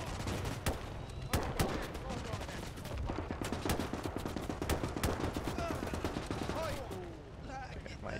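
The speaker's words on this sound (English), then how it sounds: "that's a machine gun." Machine gun fire and scattered rifle shots crackle through a World War II Eastern Front battle in Gates of Hell: Ostfront, dense rapid bursts carrying on steadily with a voice speaking over the gunfire.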